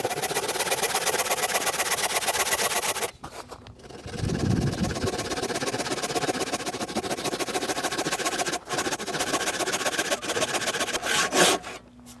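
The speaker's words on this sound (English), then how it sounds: "I can cut these shoulders down by hand quite easily." Hand saw cutting shoulders in solid oak: continuous rapid rasping strokes, close and loud, with brief pauses around three and eleven seconds before the sawing resumes.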